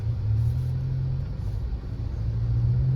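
A 2024 Toyota Tacoma TRD Pro drives along with a steady, loud low engine drone and road rumble heard from inside the cab, without talk.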